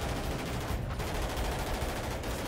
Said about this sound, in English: Directly above them, Specialist Jose Velez continues to fire at the sniper across the street